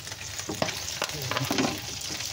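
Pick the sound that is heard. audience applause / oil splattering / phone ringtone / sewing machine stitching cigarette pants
oil splattering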